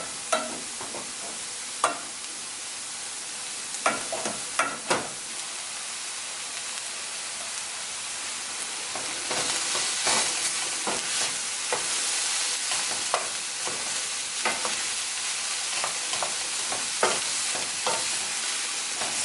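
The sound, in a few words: stirring millet and vegetable stir fry in pan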